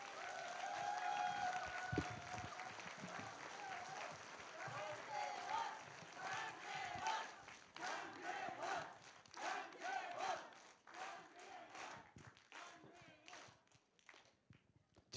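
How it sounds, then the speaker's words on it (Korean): An audience at a concert-style constituent report event claps and cheers as a politician is welcomed onto the stage, the crowd noise fairly distant and mixed with shouts and voices. "여러분 다시 한번 큰 박수 부탁드립니다."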